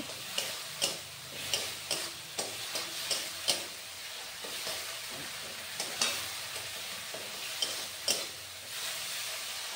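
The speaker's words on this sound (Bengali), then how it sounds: "মশলার থেকে তেল ছাড়ছে, এবার জল দিয়ে দেব।" Spice paste for a Bengali bata fish curry sizzling and spitting in hot oil, with repeated sharp crackles and pops over a steady frying hiss, close and moderately loud, no voices.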